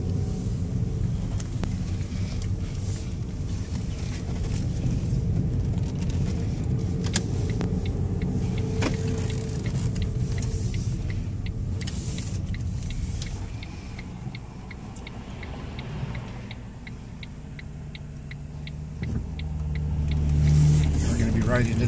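A smart car shifts and drives, its low steady engine and road rumble running continuously under a driver talking, with a slight swell in engine noise near the end.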